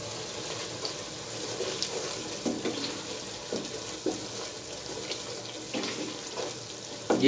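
A steady stream of water pours and splashes continuously into a cooking pot, moderately loud, with small clinks along the way and no talking.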